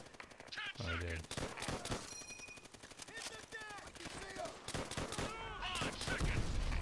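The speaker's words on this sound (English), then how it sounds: "Oh, I am shooting an M1." M1 rifle fire in the video game Just Cause, with sharp shots in quick bursts and scattered single cracks mixed with game effects, loud and close.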